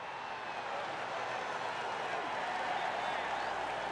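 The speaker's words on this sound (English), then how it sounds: "You don't need much to fire up this crowd, and that one will get them on their feet." A golf gallery at the Waste Management Phoenix Open, TPC Scottsdale, in PGA Tour 2K21 cheers and applauds in a continuous swelling roar, moderately loud, with commentary heard over it.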